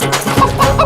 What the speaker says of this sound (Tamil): கோழி பறந்துருச்சுமா